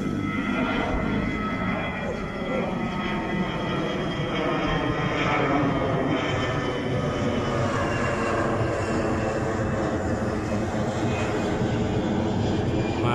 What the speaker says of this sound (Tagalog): dito guys nadaan yung mga eroplano